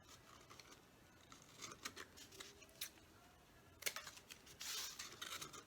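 Scissors trim a piece of recycled cereal box chipboard in a series of quiet, close snips and rustles, growing a little busier near the end, with no talking.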